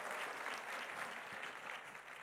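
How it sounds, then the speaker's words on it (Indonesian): A church congregation claps in a lively burst of applause for God during an energetic sermon, a full, even roar of many hands at moderate distance with no speech. "Berikan tepuk tangan yang meriah buat Tuhan"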